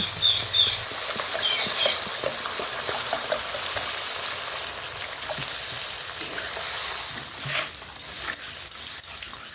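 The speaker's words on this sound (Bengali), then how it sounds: "গ্রেভিটা কিন্তু ভালো মতো ফুটে উঠেছে" Mustard-paste gravy for bhola fish bubbling in a pan, a steady close simmering crackle and patter running throughout with no voices.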